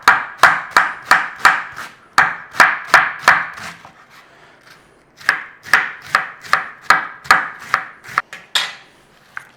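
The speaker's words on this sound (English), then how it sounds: "Just slice up your cabbage." A knife slices red cabbage on a cutting board in quick, regular crunchy chops, close and loud, in two bursts separated by a short pause.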